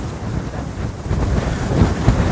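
Strong wind buffets the microphone in a continuous low roar at a beach in Hurghada, Egypt, with faint surf rumbling underneath.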